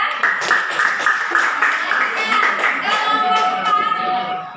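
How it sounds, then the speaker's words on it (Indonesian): A class claps for group three after a student presentation in a classroom, steady scattered hand claps lasting a few seconds, with some voices and chatter mixed in. "Tepuk tangan kelompok tiga."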